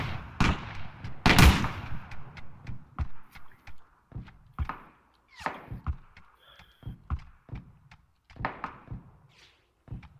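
Gunfire and grenade explosions in the online shooter Ring of Elysium: scattered sharp shots and heavier booming blasts, some close and loud, others distant, arriving in irregular bursts with brief gaps between them.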